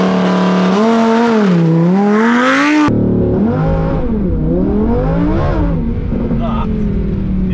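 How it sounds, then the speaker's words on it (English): A supercar launches hard under launch control, its engine note climbing steeply through a gear change into another rising pull, loud and close from inside the cabin. "you put your right foot on the accelerator, hard down, and then you let off the brake and you just go"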